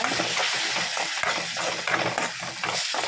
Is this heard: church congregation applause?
no